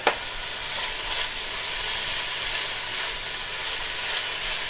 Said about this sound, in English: And then we add our ginger.